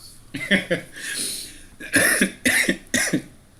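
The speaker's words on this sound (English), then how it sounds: "Pardon my coughing." A series of harsh coughs, about four bursts close together, loud and near, with a brief breathy pause between the first and later coughs.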